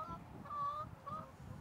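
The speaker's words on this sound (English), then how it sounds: "Noisy chickens." Chickens squawk close by on a farm in a brief, faint burst of honking calls, two main cries over a low background rumble.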